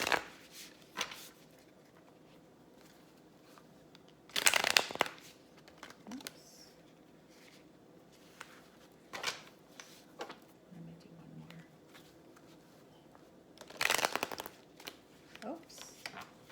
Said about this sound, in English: maybe Spirit doesn't want me to keep shuffling